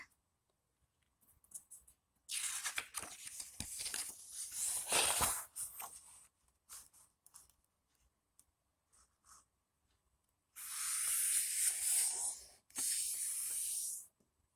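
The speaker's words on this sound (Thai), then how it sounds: "พับครึ่งกระดาษ A4 ในแนวนอนนะคะ" An A4 sheet of paper is folded in half lengthwise, with quiet, close, crisp rustles and sliding swishes in short bursts separated by near-silent pauses.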